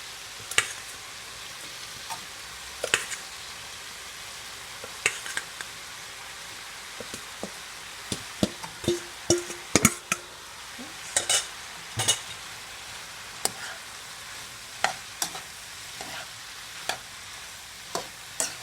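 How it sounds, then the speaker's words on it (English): Prawns fry in a pan for Guyanese-style fried rice, a soft steady sizzle broken by frequent sharp scraping stirs and clinks of the utensil, close up and without voices. "I'm gonna add my prawns"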